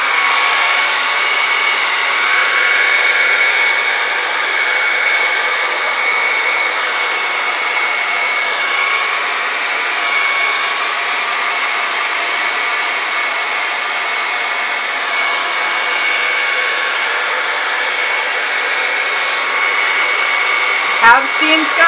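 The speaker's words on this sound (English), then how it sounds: "We'll see what happens if the blow dryer will work." A hair dryer whirs continuously at close range over fluid acrylic paint, a loud steady airy roar that holds unchanged, ending with a brief click.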